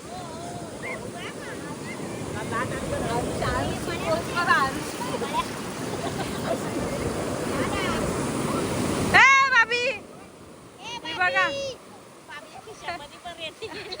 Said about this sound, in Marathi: इथं लाटा कसल्या मोठ्या आहेत भरपूर मोठ्या लाटा आवाज येत असेल